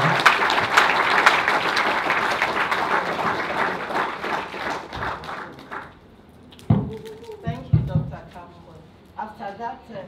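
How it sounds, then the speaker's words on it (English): Audience applause for a speaker being introduced at an institute lecture, a dense steady round of clapping for about six seconds that fades out, followed by a speaking voice. "if you can all give her a round of applause"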